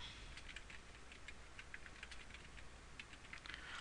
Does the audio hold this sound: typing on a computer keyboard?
yes